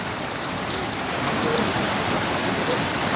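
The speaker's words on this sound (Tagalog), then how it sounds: "ang sarap maligo sa ulan" Steady, dense rain pours down continuously, a broad hiss of drops hitting surfaces close by, with no voices.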